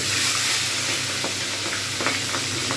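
Katla fish heads fry in hot oil over a lowered flame, giving a loud, continuous, close sizzle with faint crackles and pops and no talking.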